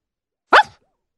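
A dog gives one short, clear bark, sharp and near, standing alone in otherwise silent surroundings.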